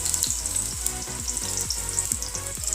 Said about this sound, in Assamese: পিঁয়াজখিনি মই ধুনীয়াকৈ ভাজি আছোঁ